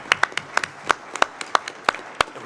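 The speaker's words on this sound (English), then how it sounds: "I think we need a round of applause for the body of work that was just presented." Scattered hand claps from a small group at a school board meeting, sharp and irregular, rising into brief applause with no voices.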